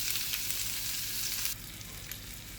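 Sliced onion and green chili frying in a pan, a steady bright sizzle that drops noticeably in intensity halfway through, close and continuous with no talking.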